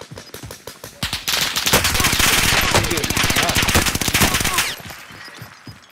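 Automatic gunfire in Call of Duty: Modern Warfare, loud sustained bursts of rapid shots near the listener with scattered single cracks before and after the main volley.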